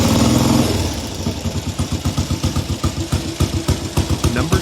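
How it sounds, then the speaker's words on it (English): A classic British Triumph T100R Daytona motorcycle engine idles in a regular, pulsing putter of rapid even beats, close and fairly loud after a brief louder rev at the start. "the T100R Daytona continues to hold its place as a desirable and character-filled machine for both riders and collectors"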